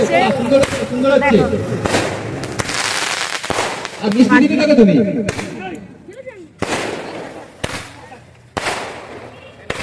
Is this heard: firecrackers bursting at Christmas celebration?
yes